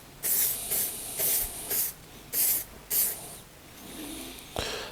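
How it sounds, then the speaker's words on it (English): Six short bursts of lacquer from an aerosol spray can hiss in an uneven rhythm onto an engraved slate surface, close and fairly loud, followed by a softer, longer spray and a final brief burst. "what happens when you spray lacquer on a prepared surface"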